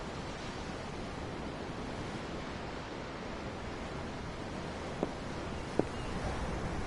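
Ocean waves seen from a ship's deck in the role-playing game Tales of Arise, a steady broad wash of surf and wind, continuous and moderately loud, with two tiny clicks near the end.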